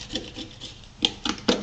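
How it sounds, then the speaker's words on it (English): Rhythmic rubbing strokes of sanding over fiberglass sheeting on a foam model wing, close and moderately loud, each back-and-forth pass a short raspy burst. "when you start sanding on this glass, you're not sanding over a bunch of bumps"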